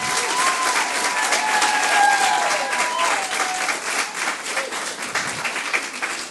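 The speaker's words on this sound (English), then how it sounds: "So I want another round of applause for those years" Sustained applause from an audience at a youth-in-care summit, a dense, steady roar of many hands clapping at close range, with faint voices mixed in.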